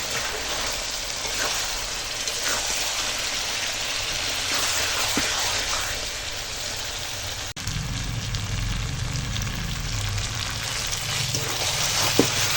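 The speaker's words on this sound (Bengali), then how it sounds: "সব পিসগুলো দেখো রেয়াজি খাসি কাঠের জালে কষানো হচ্ছে" Pieces of rezaji goat mutton fry steadily in oil over a wood fire, giving a continuous close sizzle with occasional crackles and pops and a brief stir partway through, with no talking.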